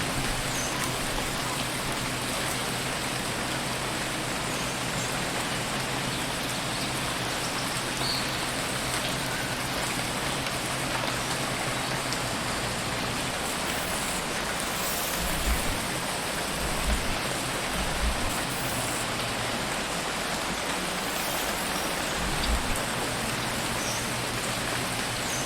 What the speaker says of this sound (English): The rain is coming from very small clouds, as if the planet is sucking the water out of them.